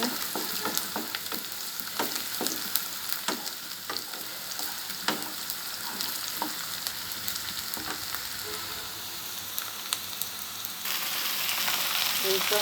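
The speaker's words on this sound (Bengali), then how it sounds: "আর এই পাশে ফ্রাই প্যানে এখন লাল শাক বসাবো" Red amaranth greens fry with chopped onion and garlic in a frying pan: a dense, steady sizzle with intermittent clicks and scrapes of stirring, growing slightly louder and hissier near the end.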